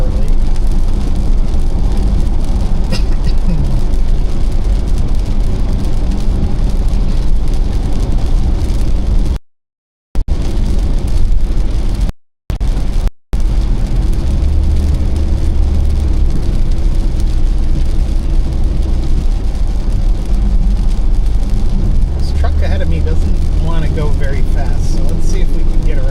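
Steady road roar and rain hiss inside a car driving on a highway through Binghamton on a stormy spring day, a constant close rumble with a couple of brief dropouts and a voice speaking at points.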